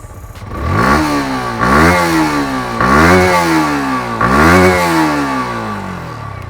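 A Yamaha R15M motorcycle engine revs hard four times in a row, each rise climbing then dropping back, loud and close with a throaty single-barrel exhaust note.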